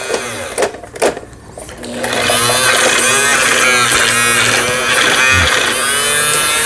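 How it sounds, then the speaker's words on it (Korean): A Brother Boutique 15 sewing machine under repair for a belt problem starts stitching after a few clicks and clunks, then runs as a steady, loud, close mechanical whir and rapid needle chatter, with no talk. "박음질만 일단 확인해 보도록 하겠습니다"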